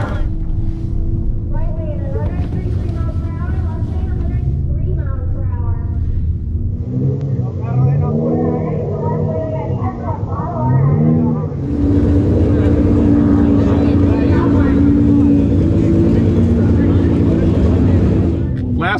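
Nissan GT-R cars making flat-out quarter-mile drag strip runs, a loud sustained engine roar that shifts pitch in stages as gears change, climbing to a harsh high-revving howl in the second half, with voices talking over it.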